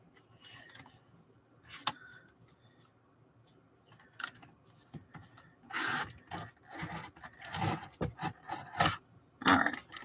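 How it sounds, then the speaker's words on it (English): Paper trimmer cutting thick scrap cardstock: irregular rough scraping and crunching strokes, sparse at first, then denser and louder bursts toward the end, close up with no talking. "that was a little rough on my trimmer"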